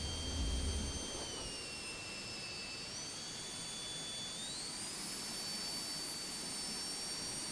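Aerobask Epic Victory jet engine in a flight simulator during a go-around, a steady high whine with tones that rise in pitch as power comes up, continuous and close, with no talking.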